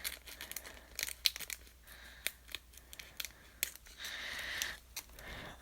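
Scissors snipping open a parcel holding a Lego order, quiet close cuts and rustling of packaging material, ending in a longer crinkling tear.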